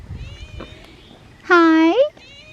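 A domestic cat gives one loud, clear meow up close that rises and falls, following quieter background sounds and softer talk earlier on.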